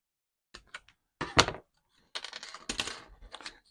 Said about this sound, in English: So if we just cut that with the sprue cutters.